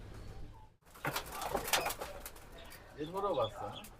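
Pigeons coo at a pigeon sale where many birds are kept, a soft rolling coo rising near the end amid cage rustles and people talking close by.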